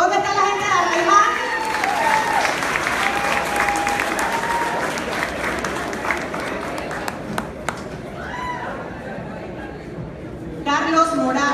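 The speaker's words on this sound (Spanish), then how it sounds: "Un fuerte aplauso." Applause from an audience at a party election event, where credentials are handed out, carries on for the whole stretch as dense continuous clapping, with crowd noise and an announcer's voice over it.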